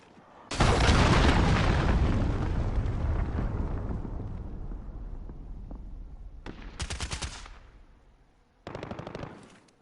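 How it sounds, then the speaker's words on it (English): In Call of Duty Modern Warfare, a cruise missile strike sets off a huge booming explosion with a long rumbling decay, followed by further bursts of gunfire and blasts. "Enemy cruise missile."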